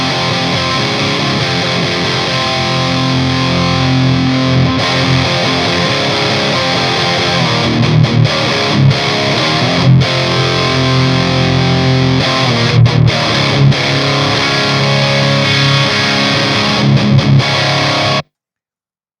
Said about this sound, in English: see what happens if we go to the rectifier and crank the mids up and see what that does